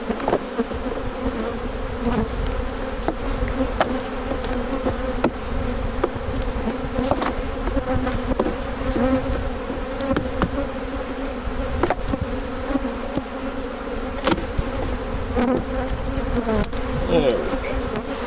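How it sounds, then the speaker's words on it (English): Honey bees swarm and buzz around an open, heavily loaded, healthy beehive, a dense steady drone of many insects close by with individual wingbeats flicking past, no voices. "This thing's loaded. Beautiful bees."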